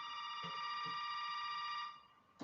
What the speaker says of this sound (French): Encore un téléphone, mais il n'y a que des téléphones dans ce jeu.